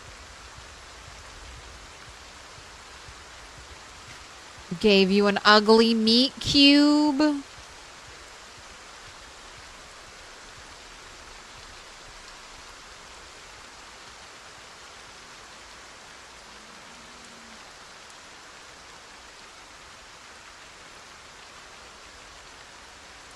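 Steady hiss of rain falling in the survival video game Project Zomboid, a constant even wash throughout, briefly interrupted near the start by a short burst of a person talking.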